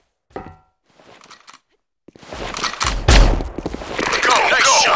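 Gunfire in the online shooter Sudden Attack: a few sharp shots early, then a loud sustained burst of rapid automatic fire with heavy thumps, close and continuous, with game voice callouts.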